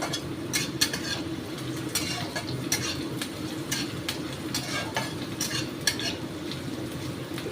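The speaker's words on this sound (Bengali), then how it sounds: "এও বেশ একটু নরম হয়ে যাচ্ছে বেগুন, একটু ভেজে নেবো" Eggplant fries in a pan with asafoetida, five-spice and green chilli while a utensil stirs it briskly, making repeated scraping strokes over a close, continuous sizzle.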